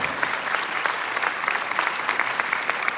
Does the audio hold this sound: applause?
yes